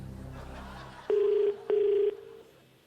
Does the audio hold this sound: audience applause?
no